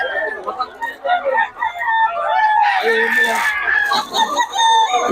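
Chickens and a rooster at a market in Bocaue, with roosters crowing and hens clucking close by in a busy, continuous din, and people talking among the birds.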